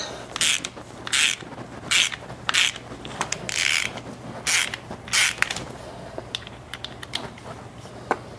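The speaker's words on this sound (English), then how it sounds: "we have two bolts that we need to pre-loosen" A tool turns bolts loose on a Shimano XT bicycle brake caliper, giving a run of close, evenly spaced ratcheting clicks that thin out into a few scattered taps.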